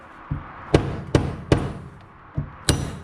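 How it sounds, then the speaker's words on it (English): Five sharp hammer strikes on a dirt bike shock part being seated, each hit ringing with a metallic ting of metal-to-metal contact between two faces, evenly spaced and close. "Hear that tinging? That's the metal to metal contact between the two faces."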